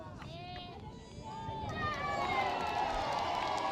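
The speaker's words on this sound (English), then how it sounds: "Can hear the crowd." A crowd at an outdoor youth touch rugby match shouts and cheers, the noise swelling toward the end, with voices calling out over it.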